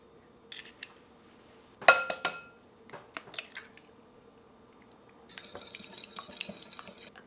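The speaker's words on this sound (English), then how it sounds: "First, we're gonna mix the wet ingredients. So that includes our 2 eggs" Two eggs and other wet ingredients being mixed in a bowl for blueberry muffins: scattered close clinks and taps of utensil on dish, then a softer continuous scraping stir toward the end, with no talking.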